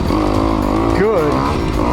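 A 2021 Kawasaki KX 250X dirt bike engine drones steadily nearby, revving briefly, while someone talks over it.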